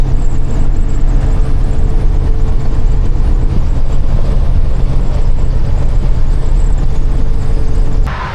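A 78-year-old bus drives down a road in steady, loud, close engine and road rumble that holds evenly throughout.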